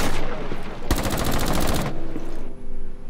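Rainbow Six Siege gunfire: a close, loud burst of rapid automatic shots lasting about a second, set amid other game noise with someone talking in Spanish around it.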